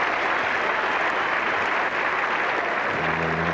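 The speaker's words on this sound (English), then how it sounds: "Applause there for the 250 partnership." Cricket crowd applauding a 250 partnership at the 1985 England versus Australia fifth Test, a steady broad wash of clapping held at even level throughout, with a low hum entering near the end.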